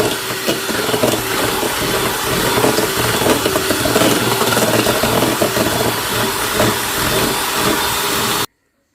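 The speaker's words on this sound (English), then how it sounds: "So now I'm just going to whisk this off." Cookie dough mixture for sweet chocolate chip cookies is whisked in a bowl, making a steady, loud, close whirring that runs without a break for about eight seconds and then cuts off abruptly.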